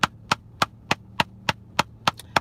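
Hand drumming with the middle of the palm on a surface: eight or nine crisp, evenly timed slaps at a steady moderate tempo, close and clear with no voices.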